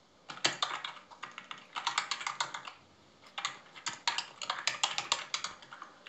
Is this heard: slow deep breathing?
no